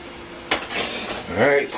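A utensil scrapes and clatters through sizzling ground-beef cheeseburger-bowl mixture in a pan, close and fairly loud, with brief bursts of stirring over a steady frying hiss.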